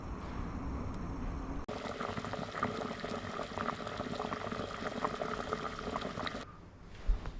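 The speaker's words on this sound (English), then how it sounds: "And so they will simmer away, that water will evaporate out, the shells will pop open" Shelled nuts simmering in water in a pan hiss and bubble steadily, with a dense crackling boil that holds at an even level before dropping away near the end.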